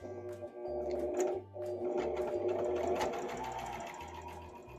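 Sewing machine stitching closed the ear of a handmade stuffed toy, running in steady bursts of rapid mechanical stitching with short pauses between runs, close and clear with no talking.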